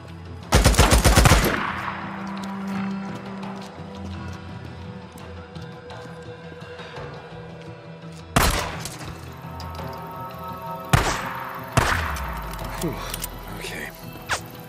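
Automatic gunfire in the Days Gone video game: a dense burst of rapid shots up front, then scattered single shots and short bursts later, all over continuous combat noise and voices.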